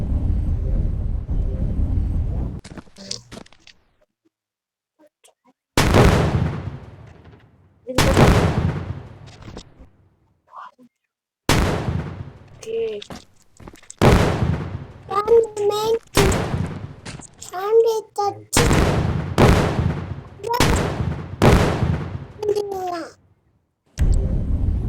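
Sniper gunfire in a zombie video game: sharp single shots spaced a second or two apart, each with a long decaying tail, growing more frequent toward the end, with a young voice talking in between.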